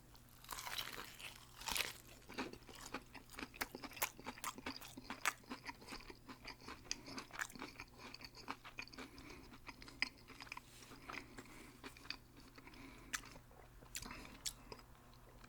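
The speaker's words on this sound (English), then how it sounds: "now before we go any further, you gotta check out this crunch" Crunchy Lee's Famous Recipe fried chicken is bitten and chewed close to the mic, giving a steady run of sharp, crisp crunches and wet chewing over a faint hum, with no talking.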